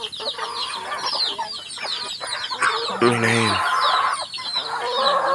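Several chickens clucking and squawking nearby, busy and overlapping, with a brief spoken word among them.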